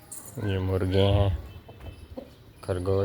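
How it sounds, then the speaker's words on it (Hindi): Chickens and roosters on a goat farm cluck and call in short bursts close by, with a person talking over and between the calls. "ये मुर्गे हैं,"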